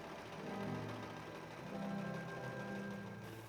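Sewing machine stitching a dress in purple thread from a 1970s Burda pattern, a steady mechanical whir that swells and eases in two long runs, fairly quiet and alone with no talk.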